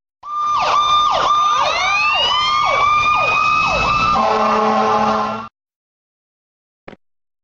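A cartoon fire engine's siren wails loudly in steady rising-and-falling sweeps for about five seconds, then shifts to a held two-tone blare before cutting off, followed by one brief click.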